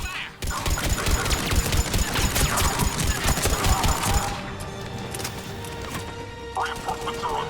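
Heavy gunfire in the video game Mass Effect 3, dense rapid bursts of shots and impacts layered over each other for several seconds, then easing into a lower rumble with scattered sounds, loud and close.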